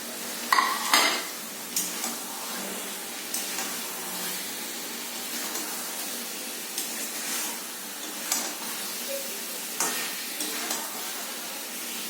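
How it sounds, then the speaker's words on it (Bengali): Boiled eggs are turned in spiced masala in a pan, giving a continuous bright sizzle with repeated scraping and clattering of a spoon against the metal, no voices. "এবার আমি এর মধ্যে ডিমগুলো দিয়ে দিচ্ছি।"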